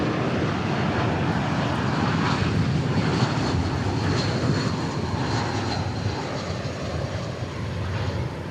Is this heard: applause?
no